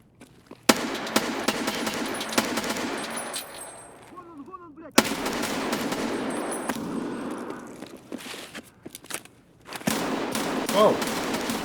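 Bursts of automatic gunfire from the video game Escape From Tarkov, loud and sustained, in long rattling volleys with short pauses between them and a brief gap near the middle.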